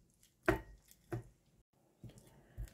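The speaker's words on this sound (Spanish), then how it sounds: "con un tenedor Vamos a machacar y mezclar todo, todo bien." A fork mashing and mixing ingredients in a bowl for an easy no-cook supper of grated garlic over cheese wedges: a few separate, close squishing strokes with short pauses between them.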